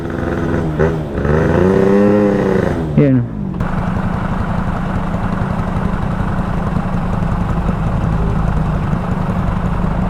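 Someone speaks briefly, then a Dio 2 scooter's stock engine revs steadily nearby, a constant buzzing drone that holds for several seconds.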